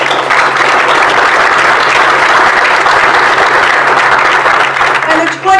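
Sustained, loud applause from an audience at an international trade awards ceremony, steady clapping throughout that cuts off abruptly at the end.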